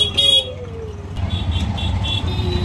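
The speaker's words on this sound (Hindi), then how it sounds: "कचरे की गाड़ी।" A garbage truck goes by with a short horn toot, followed by a rumbling engine and a high repeating beep or jingle pulsing over the traffic noise nearby.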